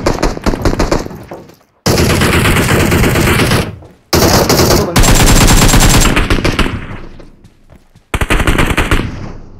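Loud, sustained automatic gunfire from a PUBG match, bursts of rapid shots broken by short silent gaps, with no talking over it.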